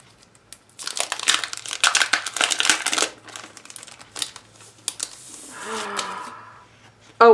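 Crinkly paper planner packaging holding decorative borders is unwrapped and opened, with bursts of close, loud crackling and rustling, a few pauses, and a softer shuffle before a sharp final rustle.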